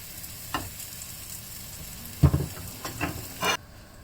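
Sausage and bacon tortilla wrap frying in a pan with cheese melting on top, giving a low sizzle with a few louder stirring and scraping bursts, close by and with no one speaking.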